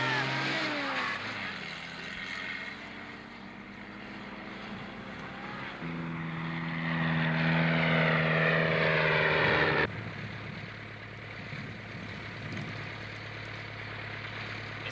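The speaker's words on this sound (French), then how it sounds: "attrapez-moi cet avion." Propeller airplane flying past at an airfield in 1960s Turkey or Burma, a steady droning engine hum with harmonic tones that swell loudest mid-clip, then settle into a lower, even drone.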